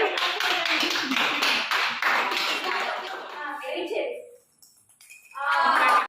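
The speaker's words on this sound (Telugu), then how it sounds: "ఓ క్లాప్స్ కొట్టండి" Several people clap at home during a children's dance game. A dense, rapid run of claps lasts about four seconds, then after a short pause a loud burst of clapping mixed with voices closes the clip.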